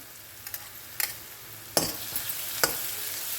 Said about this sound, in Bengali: পেঁয়াজটাকে একটু নরম হওয়া পর্যন্ত আমাদের ভেজে নিতে হবে